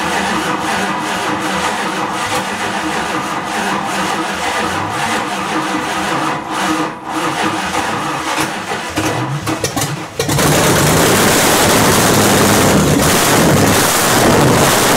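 A 1929 Chrysler 360 engine with its choke held open cranks with an uneven, grinding rhythm, then catches and runs at a loud, steady, broadband roar close to the microphone.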